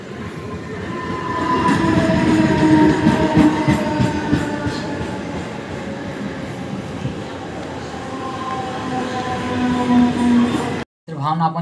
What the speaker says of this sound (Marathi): ट्रेनची एंट्री पहा एकदा.